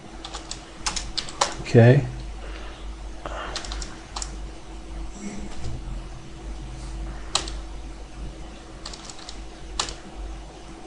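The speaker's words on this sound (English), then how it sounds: "start typing in a few items" Soft clicking keystrokes on a computer keyboard come in scattered bursts, quiet and close, while someone speaks briefly near the start and a faint low hum sits beneath.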